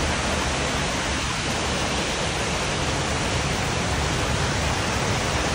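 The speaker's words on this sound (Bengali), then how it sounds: "এদিকে বৃষ্টি পড়ছে ঝিরঝির ঝিরঝির করে" Steady dense rain hiss from a storm, a broad continuous wash of falling drops that stays loud and even throughout with no talk.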